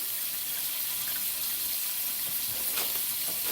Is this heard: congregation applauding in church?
no